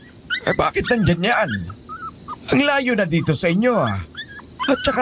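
A wounded dog lying on the ground whimpers and yelps in several rising, whining cries, close and fairly loud, with people talking between the cries.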